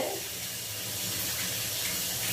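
Water runs steadily from a repaired Kohler shower faucet, a close, even hiss and splash with no pauses and no voices.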